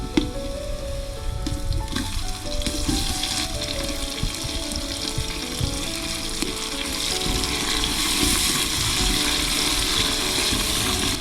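Onion, green chillies and curry leaves sauté in a pan for a Kerala soya chunks kurma, giving a steady, close sizzle with intermittent stirring scrapes throughout, no voices.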